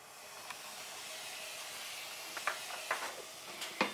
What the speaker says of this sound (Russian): Теперь у меня сода, я ее гашу уксусом немножко.